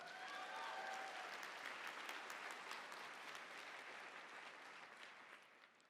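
Audience applause at a TEDx talk, dense and even clapping that starts full and gradually thins and fades toward the end, with no voice over it.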